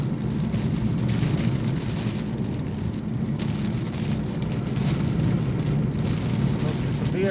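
Steady rain drumming on a car while driving home with the wipers running, a dense, constant wash of noise heard from inside the vehicle, even and unbroken throughout.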